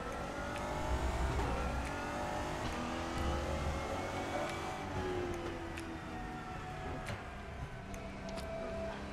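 Race car engine in the RaceRoom sim racing game on a rolling qualifying lap, a steady droning roar with rising and falling revs as gears shift, continuous and fairly loud throughout.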